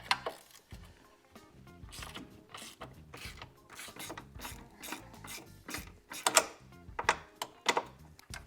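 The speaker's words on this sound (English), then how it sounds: "So you take a 13mm socket wrench. Go ahead and loosen that up." A 13mm socket wrench ratchets as it loosens the bracket bolts on a Westin Outlaw Drop running board, with close, repeated bursts of clicking pawl strokes and short pauses between them.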